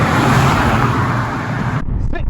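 A car accelerates hard from a standstill toward 60 mph, its engine giving a loud, steady roar that cuts off abruptly near the end.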